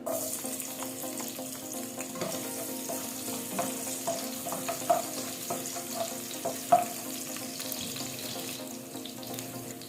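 Garlic sizzling in hot oil in a wok, a steady close crackling fry with faint scraping stirs, no voices.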